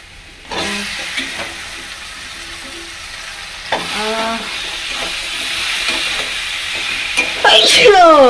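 Taro stolons go into a pan of sizzling, well-fried spice paste for a rohu fish curry, giving a constant frying hiss with stirring scrapes and a louder burst of sizzle near the end, with voices in the background.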